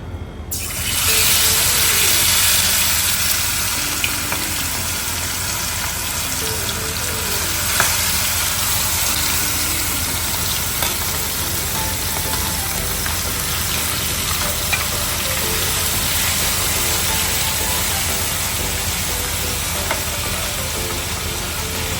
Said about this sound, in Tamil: இனி இந்த சிக்கன் அதில் பொறிக்க போகிறேன்